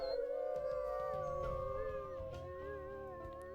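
Wolves in the video game Wolf Quest howl in long sustained wavering tones, several voices overlapping at moderate loudness, with a steady game soundscape underneath.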